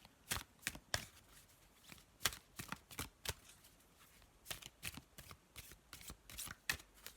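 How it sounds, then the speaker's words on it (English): A tarot deck being shuffled by hand, a series of crisp riffling card bursts in an uneven rhythm, close and fairly quiet, with no speech. "So I'm just going to have a little shuffle of Brian's deck"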